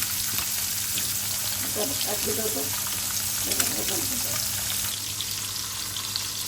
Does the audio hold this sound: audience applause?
no